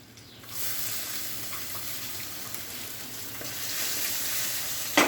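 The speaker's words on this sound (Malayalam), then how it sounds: "ഇഞ്ചി വെളുത്തുള്ളി ഒന്ന് വഴറ്റിയതിന് ശേഷം ബാക്കിയിടാം." Ginger and garlic sizzle steadily in hot oil in a pan while cooking a spicy prawn curry, a continuous loud frying hiss with a brief stir clatter at the end; nobody speaks.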